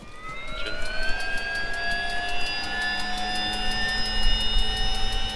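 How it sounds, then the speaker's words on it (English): A vehicle engine in the survival video game DayZ, a steady whine that rises in pitch as it revs up, loud and continuous throughout with no talk. "I'ma start the engine"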